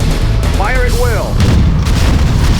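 Booming gunfire and explosions from a battle in the Command & Conquer Generals video game, with heavy low rumbling blasts throughout and a voice speaking briefly over the din.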